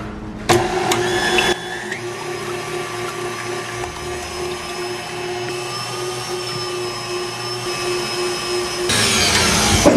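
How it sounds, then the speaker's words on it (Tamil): An electric beater fitted with a wire whisk whips egg whites for a Sri Lankan love cake, giving a steady high motor whine up close that runs unbroken, with brief clatters at the start and near the end. "இதை நல்லா பீட் பண்ணி நல்லா ஃபோமியாக ஃப்ளஃபியாக வர வரையும் இதை நல்லா பீட்"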